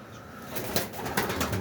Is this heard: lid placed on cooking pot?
no